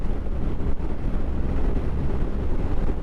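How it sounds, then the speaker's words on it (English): Strong wind buffets the microphone in a continuous low roar, gusting unevenly for a few seconds with no voices. "it's windy."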